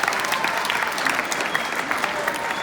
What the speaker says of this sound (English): Round of applause for Miss Polito